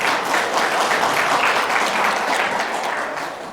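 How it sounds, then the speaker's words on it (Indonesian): Steady applause from an audience at a regional party congress in West Java, dense and sustained throughout before fading slightly at the end, with no one speaking over it. "Provinsi, tepuk tangan ya tuh."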